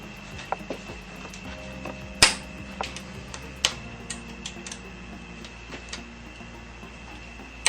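Bolts on a BMW F650 cam carrier being cracked loose with a wrench: scattered faint metallic ticks and clicks, with a few sharper snaps standing out against a quiet background.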